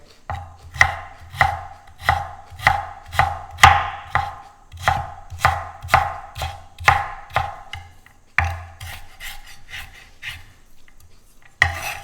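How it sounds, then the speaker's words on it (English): A knife chops a mild, gingery-tasting raw root on a cutting board in steady, evenly spaced strikes, about twenty close crisp chops with a short pause partway through. "So I'll just chop it."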